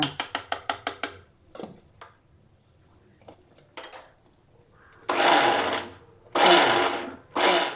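A kitchen mixer grinder blends raw tomato chutney in three loud bursts of whirring, with pauses between them. Before that comes a quick run of rhythmic rattling taps and some soft clinks.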